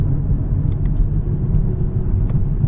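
A Mk5 Toyota Supra is driven in sport mode, and its engine produces a low, steady rumble from inside the cabin with faint ticks above it.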